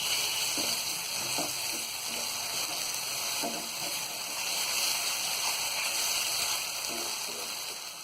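Egg biryani gravy fries in a pan with coriander and salt, giving a steady, soft sizzling hiss throughout with faint intermittent stirring clicks and no voices.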